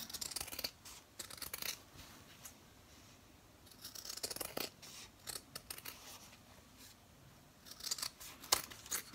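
Sharp scissors snip repeatedly through fabric corners of a small nativity zipper bag, a run of close, crisp cuts in bursts with short pauses between them.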